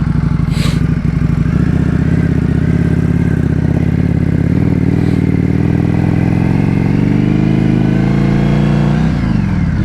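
Motorcycle engine heard through a helmet-mounted microphone while riding, a loud continuous close drone with steady low rumble, rising slightly in pitch near the end as the rider accelerates, with wind noise and no talking.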